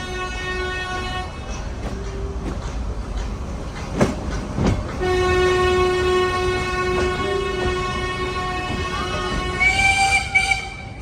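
A Nilgiri Mountain Railway train running from Mettupalayam toward Ooty gives a steady rolling rumble with clicks, and its horn sounds in several long, loud blasts.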